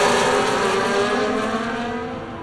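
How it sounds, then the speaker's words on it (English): A Formula 1 race car in a video game, braking too late into turn 4 and slamming into the rear of another car, heard as a loud, steady high-pitched engine whine with tire noise, continuous and close throughout. "Too late on the brakes, completely slamming into the rear end of Bottas."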